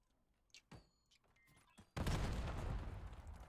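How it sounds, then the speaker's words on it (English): A thrown grenade in a competitive shooter game goes off in a sudden loud blast with a rumbling tail, after a few quieter thuds and clicks. "Beautifully thrown nade."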